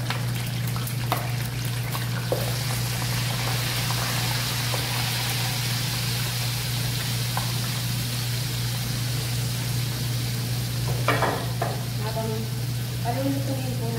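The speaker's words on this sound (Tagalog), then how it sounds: "Ipiprito ko na po." Oil sizzles steadily as food fries in a pan for koshari, a constant crackling hiss that runs throughout, with a low steady hum beneath and a few clinks of stirring near the end.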